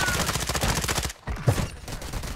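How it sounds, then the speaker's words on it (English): Rapid automatic gunfire in Warzone 2, dense loud bursts of shots hitting the player from behind, a brief gap and then more firing. "No, I'm being shot in the back."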